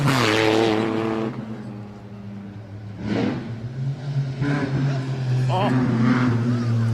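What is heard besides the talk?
Lancia Stratos rally car with Alfa Romeo GTV6 engine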